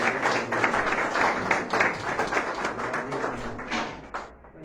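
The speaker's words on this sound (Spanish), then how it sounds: "Denle un aplauso al Señor" A church congregation applauds during a Sunday service, a dense, steady patter of many hands that continues for several seconds and fades near the end.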